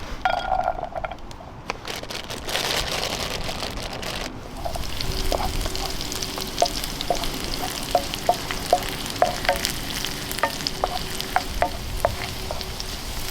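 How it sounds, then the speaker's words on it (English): Onions frying in butter and a little olive oil in a pan on a twig stove in the woods, a steady close sizzle with scattered crackles and light clinks of a utensil throughout. "so I'm going to put in butter there, and then just a little bit of the olive oil as well. And some onions."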